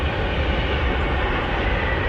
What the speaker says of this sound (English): The train just going past.